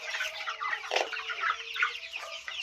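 Farm chickens clucking close by, several birds giving short overlapping clucks and soft calls in an irregular rhythm, with no talk.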